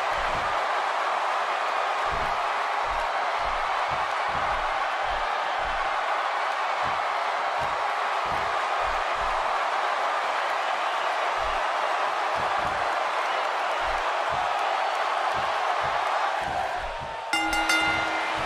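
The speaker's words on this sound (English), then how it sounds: "Wow, this amazing crowd is in for one hell of a match." Steady arena crowd roar with cheering in the WWE 2K16 wrestling video game, a continuous wash of noise with scattered thumps, ending in a brief sharp shift.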